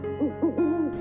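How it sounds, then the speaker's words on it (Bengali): A dove calls from a tree branch, giving a few soft, hooting coos in a short rhythmic phrase, close and clear with no talking over it. "ঘুঘু ডাকে গাছের ডালে।"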